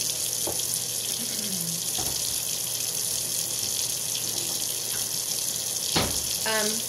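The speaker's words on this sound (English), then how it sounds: "I'm going to get some really hot water in the sink." Very hot water runs from a kitchen tap into the sink while peanut brittle is being made, a steady close rushing splash with a few faint clinks and knocks over it.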